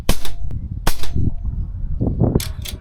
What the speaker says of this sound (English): Okay, single shot loader first through the Catran. Get a few shots off.